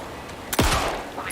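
A shotgun in Alan Wake 2 fires a single loud, close blast that booms and then decays into a low rumble over a faint background hum.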